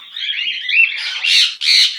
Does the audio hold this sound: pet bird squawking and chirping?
yes